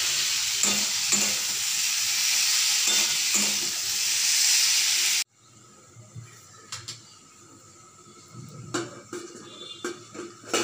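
Arum lobes (kochur loti) with shrimp frying and being stirred in a pan for a Bengali dish: a loud, steady sizzle for about five seconds, then a quieter stretch of scattered stirring scrapes and clinks.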